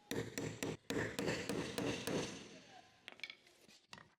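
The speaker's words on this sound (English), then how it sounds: "Using the flathead screwdriver and hammer, remove the lock ring above the fuel pump assembly." Sharp metallic taps from a hammer striking a flathead screwdriver to loosen the fuel pump lock ring on a Jeep Wrangler JK fuel tank, about a dozen in an irregular rhythm, loud and close, fading to lighter taps at the end.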